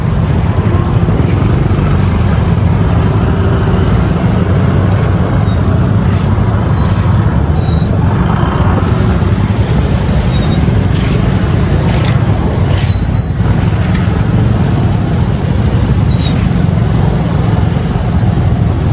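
Steady, loud roar of a morning traffic jam on Jalan Gempol, a city road in Bandung, with engines idling and rumbling continuously and no voices standing out.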